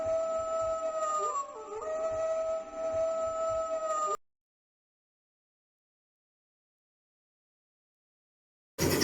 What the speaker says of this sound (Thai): เสียงมาหอนแล้ว